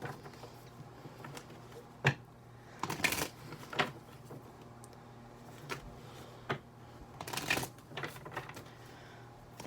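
Tarot cards being shuffled by hand in a quiet room, bursts of riffling flutter and soft slaps recurring in uneven clusters with short pauses between, close and fairly faint, no talking.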